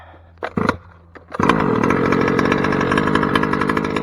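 The small gas engine of a Losi 5ive-B RC car gives a few short sputters, then catches and runs loud and steady at a raspy, buzzing idle close by.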